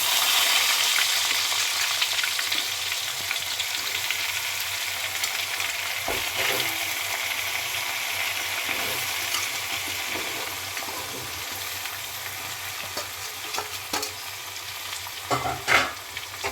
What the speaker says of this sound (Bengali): এখন তেল গরম হয়ে গেছে, দিয়ে দিচ্ছি আমটা।